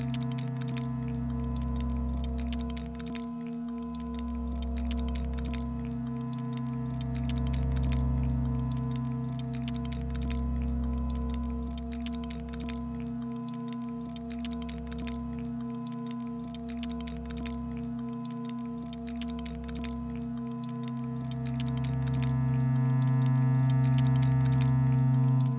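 Layered loops from a 4MS Dual Looping Delay module form a quiet, steady synth drone with sustained tones, a soft pulsing low throb repeating every couple of seconds, and faint ticking texture on top.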